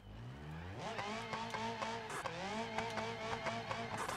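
Car engine in BeamNG.drive revving hard after the clutch is dumped in third gear, the pitch climbing and wavering with tire squeal, steady and fairly faint, no talk.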